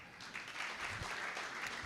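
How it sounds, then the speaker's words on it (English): Brief, faint applause for sponsors at the launch of a volleyball tournament, a short burst of clapping from a gathering. "we'd like to have a real huge clap for our sponsors"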